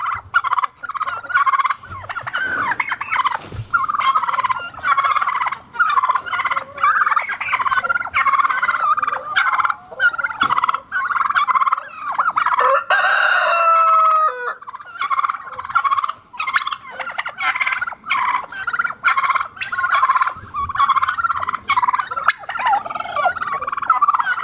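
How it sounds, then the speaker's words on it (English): Turkeys gobble loudly and repeatedly, a flock calling over and over in rapid bursts with almost no pause between them. "The turkeys are starting to get fired up."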